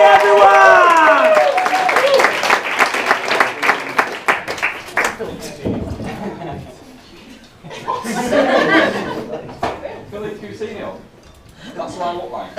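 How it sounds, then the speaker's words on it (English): Comedy club audience at Hot Water Comedy Club in Liverpool claps and cheers loudly in a dense burst that fades over several seconds, with a voice shouting over it and a few sparse claps afterward. "Start clapping one final time."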